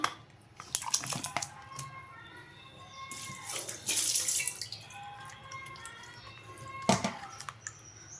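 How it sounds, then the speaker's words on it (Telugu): Bitter gourd pieces washed by hand in water, giving close sloshing, splashing and dripping bursts with brief pauses between. "ఈ వాటర్ పారబోసి మళ్ళీ వాటర్ తీసుకుందాం మళ్ళీ ఒకసారి వాష్ చేసుకుందాం"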